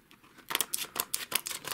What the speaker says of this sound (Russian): Давайте, наверное, воспользуемся ножницами.